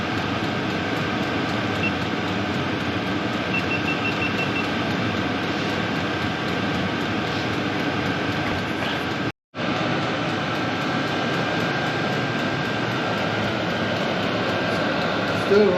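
A new diesel heater that smokes heavily and leaves soot runs with a steady, loud mechanical roar and hum, continuous apart from one brief dropout midway.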